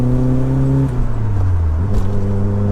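The engine of a legendary 1990s performance car runs with a loud, deep, steady hum close by. Its pitch dips slightly partway through before settling again into a smooth, even drone.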